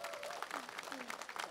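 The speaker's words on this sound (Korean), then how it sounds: "박수 좀 부탁드리겠습니다." Audience at an autumn-foliage song festival claps, irregular scattered hand claps beneath voices and shouts, moderately distant and uneven.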